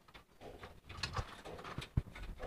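Soft, low pigeon coos, several short calls in quick succession from close by, with no talking.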